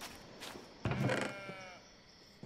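A sheep bleats in a pen in a modded Hytale video game, one short wavering bleat after a soft thump, heard close and alone.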